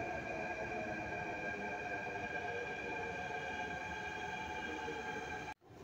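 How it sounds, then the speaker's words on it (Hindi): Delhi metro train in motion, heard from inside as a steady rolling hum and rumble with a faint tonal whine, continuous and fairly quiet, cutting off abruptly near the end. "अब हम फिर से मेट्रो में आ गए हैं और अब हम फिर से मेट्रो के ज़रिए जाएंगे वापस।"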